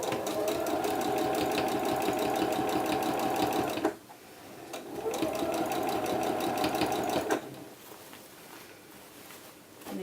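A sewing machine stitches a reversible A-line dress in two long, fast, even bursts of rapid mechanical whirring and needle ticking, close by, each stopping abruptly, with quieter handling of fabric between and after the runs.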